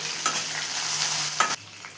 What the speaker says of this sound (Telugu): కొంచెం జీడిపప్పులు అలాగే దీంట్లోకి ఒక మూడు పచ్చిమిరపకాయలు కరివేపాకు అలాగే అల్లం తీసుకొని వేయించుకోవాలి